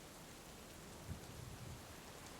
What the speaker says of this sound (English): Standing quietly in the rain.